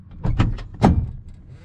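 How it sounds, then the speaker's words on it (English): The heavy door of a 1973 Dodge Charger 340 opens with a few close, quick mechanical clunks and clicks, the loudest thump landing just before the end. "listen to when I open the door"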